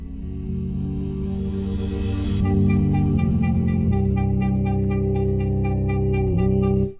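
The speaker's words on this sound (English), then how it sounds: "It's just some wind chimes. I chucked it in a granulator" Wind chime sample run through a granulator, a shimmering wash of bright metallic tones that keeps shifting and never repeats exactly, building into a dense, sustained texture before cutting off abruptly at the end.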